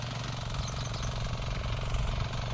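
A 5HP power weeder engine runs steadily at close range, making a loud, rapid, rough chugging with a mechanical knock and no pauses.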